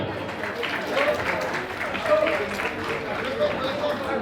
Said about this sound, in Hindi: द बेस्ट कोरियोग्राफर बॉलीवुड के गणेश आचार्य जी के लिए जोरदार तालियां।